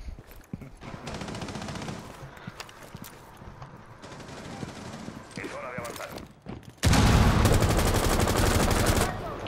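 Gunfire in a video game: dense automatic bursts under excited talk at first, then a very loud, sustained barrage dominating the last few seconds.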